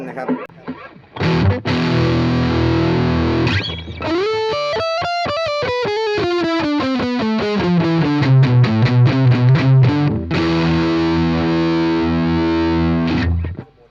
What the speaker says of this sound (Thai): ในเสียงแตกนี้ก็มีอีก 3 แบบนะครับ เอามาเสียงแตกก่อนเริ่มต้นที่เป็นแบบ